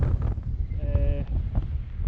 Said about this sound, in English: It's still really cold, still really windy, as you can probably hear.